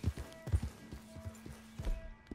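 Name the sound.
horse hooves galloping in video game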